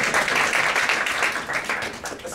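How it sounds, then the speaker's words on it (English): Audience applause at a talk by a poet, writer and activist, a short burst of steady clapping throughout, fairly loud with some voices mixed in. "give them a round of applause"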